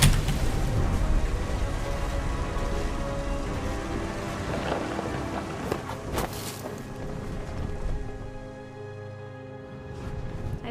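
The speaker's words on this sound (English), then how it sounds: "The thunder sounded much too close and full of angry power." Steady heavy rain pours down with rolling thunder in the video game What Remains of Edith Finch, a loud close downpour with a deep rumble building midway before easing off.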